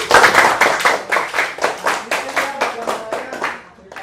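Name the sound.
group clapping hands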